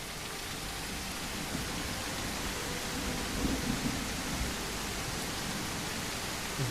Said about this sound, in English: Weather. Heavy rain.